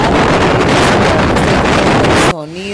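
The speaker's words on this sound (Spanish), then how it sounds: "como estamos en moto, por eso suena así." Heavy wind roar buffets the microphone while riding a motorcycle around Chinauta, Cundinamarca, a loud continuous rushing that cuts off abruptly near the end, leaving a quieter moment with a faint tonal sound.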